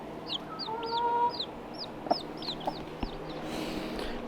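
A mother hen clucks near her newly hatched chicks, including silkies, with a run of soft repeated clucks and high chick peeps, close and gentle against a quiet barnyard background.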